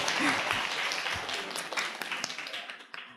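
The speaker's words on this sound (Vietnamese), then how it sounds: "cho các quý phụ huynh một tràng pháo tay được không ạ?" Applause for the parents at a children's competition final in Vietnam: a crowd claps in a dense wash that gradually thins into scattered, individual claps, with faint voices beneath.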